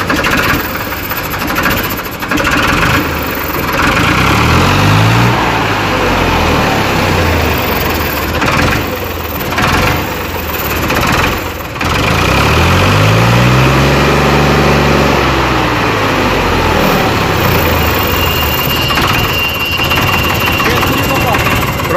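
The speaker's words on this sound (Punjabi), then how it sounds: "ਸਟਾਰਟ ਕਰਨ ਤੋਂ ਬਾਅਦ ਵੀ ਰੇਸ ਦੇ ਕੇ ਦੇਖਦੇ ਹਾਂ ਕਿਵੇਂ ਕੰਮ ਕਰਦੀ ਹੈ ਰੇਸ।" A modified Ford 3600 tractor engine, wiring exposed, starts and runs loud and close, revved up and down in several swells over a rough, knocking idle, with people talking nearby.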